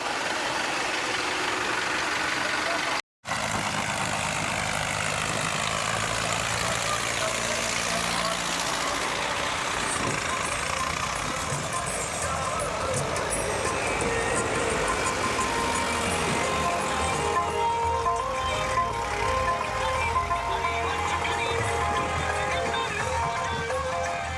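Heavy diesel engines idle and rumble continuously for a long stretch, with voices and crowd noise mixed over the steady drone.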